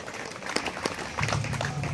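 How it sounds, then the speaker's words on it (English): An audience at a Samoan culture show claps for an instructor, a short burst of scattered applause that thickens toward the end. "Another round of applause for your terrible instructor"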